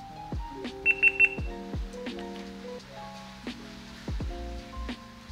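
Three quick, high electronic beeps from a GoPro camera powering on, heard among soft clicks and handling knocks in a quiet room.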